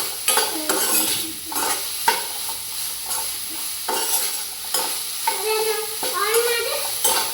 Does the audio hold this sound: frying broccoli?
yes